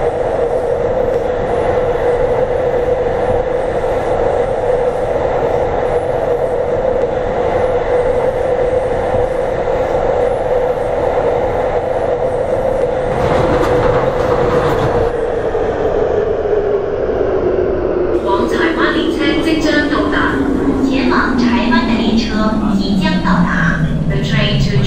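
An electric C-train runs on the Island Line in the OpenBVE train simulator game. A steady, loud rail rumble carries a motor whine that drops in pitch as the train slows toward the end.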